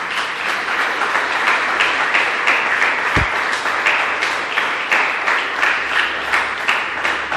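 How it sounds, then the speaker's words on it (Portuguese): A church congregation applauds, a dense and steady wash of many hands clapping that stays loud and even from start to finish, with no voices over it. "Você pode aplaudir ao Senhor?"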